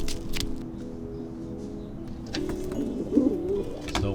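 Injured pigeons in an aviary coo softly near the microphone, a low burbling call swelling late in the clip after some faint shuffling and rustling, with no voices.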